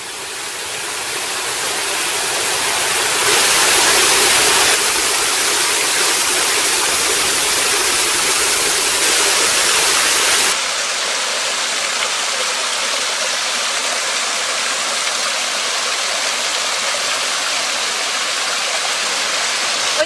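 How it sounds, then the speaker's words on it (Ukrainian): The waterfalls of Kozatske pour with a steady, loud broadband rush of falling water, unbroken across the whole stretch, with the tone shifting slightly partway through and no voices. "так привабливо і розкішно виглядають наші водоспади зараз"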